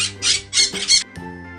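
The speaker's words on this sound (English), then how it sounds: "P for parrot." A parrot lets out a few harsh, shrill squawks in quick succession, loud and close, over a soft sustained musical backing in a children's alphabet song.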